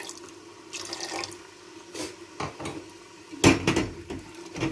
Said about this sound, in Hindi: थोड़ा थोड़ा पानी डाल के हमने इसको भूनना है